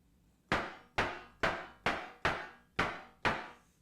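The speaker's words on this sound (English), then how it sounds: "So this could be a good snare" Seven synthesized snare drum hits from a Behringer UB-XA synthesizer, each a sharp, bright crack with a quick noisy decay, struck at a steady even pace alone with no talk.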